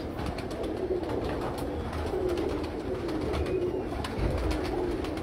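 Pigeon cooing in repeated low, soft phrases throughout, held against a steady background hum with no talk.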